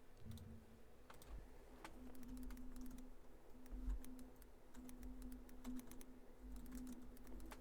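Rapid keystrokes on a computer keyboard click in quick irregular bursts, faint and close, over a steady low electrical hum in a quiet room.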